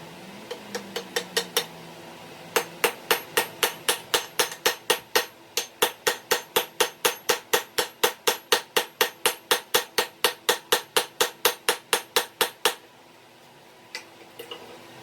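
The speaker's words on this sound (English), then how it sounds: "we're going to place it right in the center and hammer it in" A hammer drives a wooden wedge into the top of an axe handle with a steady run of sharp, ringing strikes, about three per second and close to the microphone. A brief pause comes early, the blows build to a long even series, then a few last taps follow.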